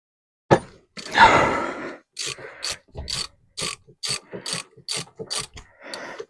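A ratchet clicks in short repeated bursts while loosening the bottom nut of a Honda VFR400R NC21 motorcycle fork, close and crisp, after an initial strained effort noise.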